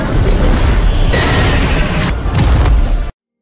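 A thunder magic attack explodes in a loud, roaring blast of crackling, rumbling noise that fills the space for about three seconds, then cuts to silence.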